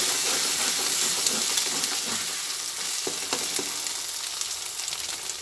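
Egg, chopped onion and garlic fry together in a pan for egg chow mein, producing a steady loud hissing sizzle with occasional stirring scrapes, no voices.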